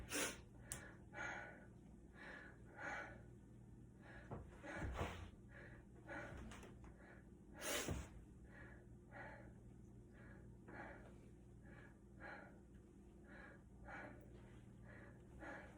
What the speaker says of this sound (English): Every time my diaphragm touches your back, you take a deep breath.